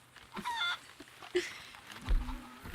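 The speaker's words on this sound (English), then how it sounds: "you guys are a rude bunch of little chickens" Chickens in the Red Dead Redemption 2 video game clucking and squawking in a few short, faint bursts against a quiet background.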